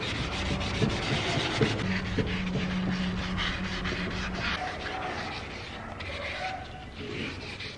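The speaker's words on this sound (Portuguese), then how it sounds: "Eu gosto dessa lixa porque ela é flexível, tá vendo? Pra lixar nessas partinhas aqui" Flexible sandpaper rubbed by hand over a small part being prepped for chrome paint, a steady close scratchy rasp with no talk.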